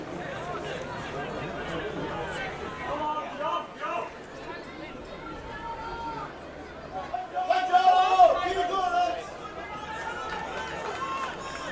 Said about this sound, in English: Crowd trying to get Darlington going a little bit here